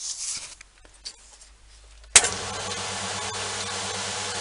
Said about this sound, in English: Now that's not a noisy little machine.